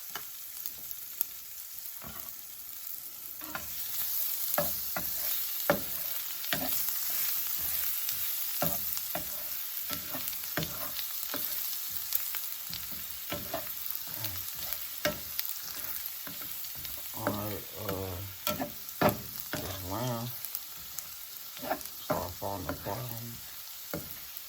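Garlic sizzles in butter in a hot pan for a honey garlic lamb dish, a steady bright frying hiss with scattered pops and crackles, plus stirring and utensil scrapes toward the end.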